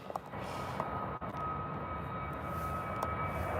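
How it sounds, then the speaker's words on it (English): A jet airliner takes off at Birmingham airport, heard as a steady, broad engine roar that holds level for the whole stretch, with no talk over it. "here's our next takeoff"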